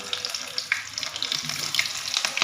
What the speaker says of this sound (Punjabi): ਹੁਣ ਆਪਾਂ ਇਹਨੂੰ ਡੀਪ ਫਰਾਈ ਕਰਾਂਗੇ ਕਟਲ ਨੂੰ